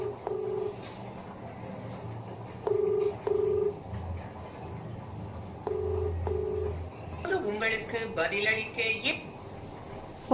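An unanswered phone call rings out with repeated short pulsed beeps, pausing between tones, followed by a person talking.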